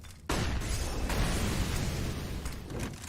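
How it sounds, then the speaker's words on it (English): Incendiary grenades in Counter-Strike, a sudden burst that settles into a loud, dense, continuous roaring crackle of fire lasting several seconds, close and steady. "Those 2 incendiaries practically nullify each other."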